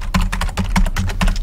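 Rapid, uneven keystrokes on a computer keyboard while entering terminal commands, close and clear, with bursts of clicks and a heavier key press, no talking.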